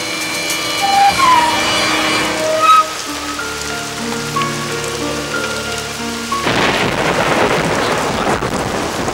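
Storm with heavy rain and rolling thunder, a constant loud wash of rain with deep rumbles and a surge of harder downpour in the latter part, mixed with film music tones.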